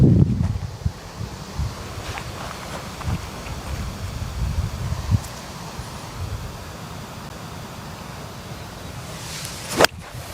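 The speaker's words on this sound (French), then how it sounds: "il y a le vent qui pousse de droite à gauche" Wind gusts across an open golf course, buffeting the microphone with low rumbles and rustling, with a sharp brief knock near the end.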